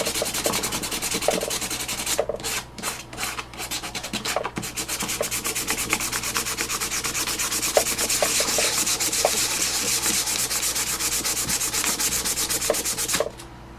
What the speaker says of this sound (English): it covered the original wood and is staining my sandpaper